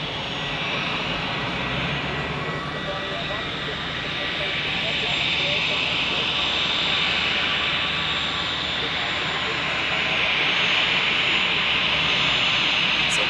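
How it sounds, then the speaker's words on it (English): A Commodore Airbus A320 arriving from Heraklion at Zurich Airport produces a steady jet engine roar that swells slightly toward the end, continuous and fairly close. "So Commodore arriving from Heraklion in Greece"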